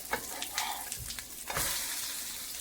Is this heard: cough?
no